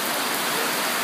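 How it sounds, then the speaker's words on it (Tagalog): Heavy rain at a beach resort in San Fabian, Pangasinan, a dense, loud, even hiss of downpour filling the whole brief moment with no voices. "Ang lakas ng ulan"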